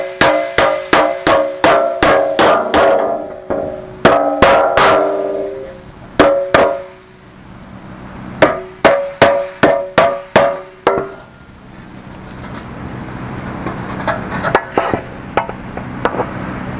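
A hammer knocks the edge of a malleable aluminium panel over to 90 degrees while a Jaguar E-Type aluminium bonnet is built. Loud, sharp metallic blows come in quick bursts separated by short pauses, with softer taps near the end.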